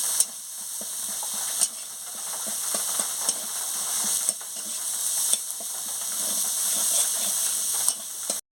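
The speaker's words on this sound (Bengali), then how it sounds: "জিরে গুঁড়ো আর ধনে গুঁড়ো একসঙ্গে দিয়ে দিচ্ছি। মশলাগুলো ভালো করে আমি কষিয়ে নিচ্ছি।" Cumin and coriander powder sautéing in a pan, a loud continuous hiss of frying close by, broken by several sharp scraping knocks of a spatula against the pan, with no voices.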